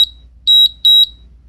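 A high electronic timer beeps: one short chirp, then two pairs of sharp, loud tones in quick succession, alone in silence.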